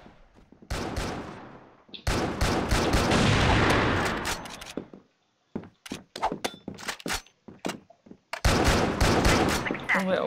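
Automatic gunfire in the video game CrossFire: long, loud sustained bursts alternate with rapid clusters of individual shots and short pauses, up close and continuous through most of the stretch.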